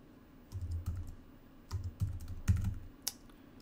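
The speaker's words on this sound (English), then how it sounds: "Let me just type in here a calculator." Typing on a computer keyboard, a few short scattered bursts of key clicks in an otherwise quiet room, close and fairly soft.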